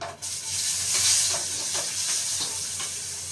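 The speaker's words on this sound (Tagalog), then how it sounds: "Magisa tayo ng bawang" Garlic sautés in a pan for ampalaya with oyster sauce, making a loud, steady sizzle broken by soft scraping stirs.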